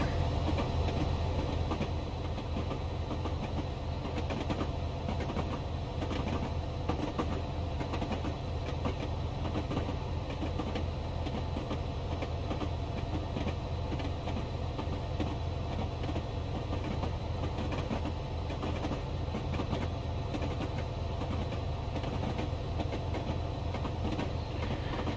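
A Class 67 diesel locomotive hauls twelve sleeper coaches from Newcastle toward Dunfermline Town in Train Simulator Classic, a continuous low engine drone and rolling rail noise at a steady, even level throughout.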